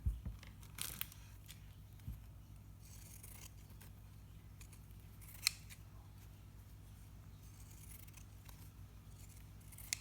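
Scissors cut bottle caps for altered paper clips, with a few sharp snips and crunches, the loudest near the start and a bright click midway. Low room hum and faint handling scrapes fill the rest.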